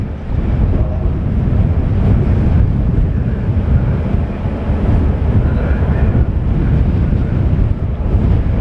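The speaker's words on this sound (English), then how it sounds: "it sure feels windy up in this gangway. I'm getting blasted up here." Strong wind roars and buffets a microphone steadily on the gangway of the ferry MV Alfred at Brodick, a loud low rumble with gusty surges throughout, no voices.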